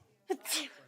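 A single short sneeze rings out sharply in a quiet board meeting room, followed by near silence.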